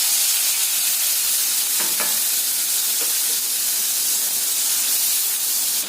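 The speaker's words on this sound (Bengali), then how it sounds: "এটা আমি এই সময় তেল দিয়ে চিংড়িটা ভেজে নেব" About 100 grams of prawns frying in hot oil, a loud, dense, continuous sizzle and hiss with a few faint stirring scrapes.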